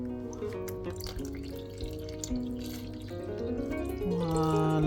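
Cold water running into a cooking pot of goat meat for a Cameroonian dish, a steady filling pour whose pitch climbs as the pot fills, loud and close with no talking.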